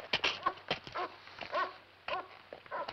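A dog whimpers and yelps in a 1972 horror film scene: a quick run of soft, high whines and short yips, fairly faint and close, over a low steady hum, with no speech.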